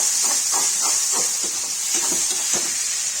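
Tomatoes being sautéed in a pan for an eggplant curry, giving a constant bright hiss of sizzling oil with soft stirring bursts every half second or so.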